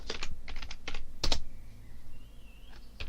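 Quick bursts of keystrokes on a computer keyboard as a Linux terminal command is entered, several short clusters of clicky taps, close and clear, followed by a quieter pause with faint background hum.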